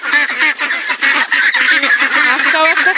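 Ducks raised for meat on a farm quack and honk without pause, a dense, loud chorus of many overlapping birds close by.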